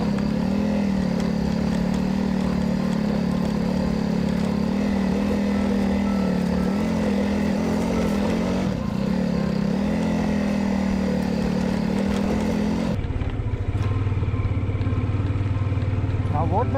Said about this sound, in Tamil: வண்டி மேலே ஏற கொஞ்சம் கஷ்டம் தான் படுது.